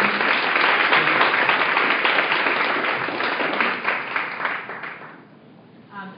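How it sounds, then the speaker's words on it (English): A conference audience at an OMMA social media marketing session gives a speaker a dense round of applause that holds steady, then thins and fades out near the end. "give Aubrey a round of applause"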